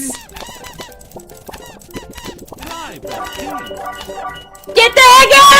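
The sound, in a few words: penguins squawking in Dream Daddy video game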